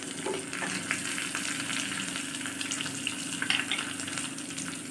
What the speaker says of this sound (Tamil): நம்ம எடுத்து வச்சுருந்த வெங்காயம், பச்சை மிளகாய், கருவேப்பிலை சேர்த்தாச்சு. இது வதங்கி வந்ததுக்கப்புறம்